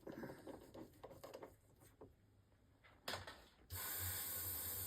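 An airbrush is cleaned out with a quiet hissing spray and small mechanical clicks, ending in a loud, steady blast of spray that runs to the end.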